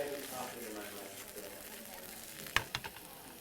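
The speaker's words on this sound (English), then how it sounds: "I'm going to get a nice little saute action going on here." Food sautéing in olive oil in a hot pan gives a steady, close sizzle that runs throughout, with a couple of sharp clinks from the pan being tossed near the end.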